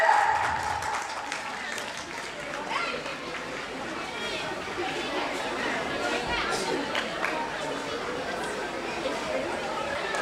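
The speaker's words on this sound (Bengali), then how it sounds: "মেয়েরা একটু জোরে হাততালি" Applause from an audience, including schoolgirls, at an annual school prize-distribution ceremony, a steady even patter of clapping that keeps going for the whole stretch with crowd chatter mixed in.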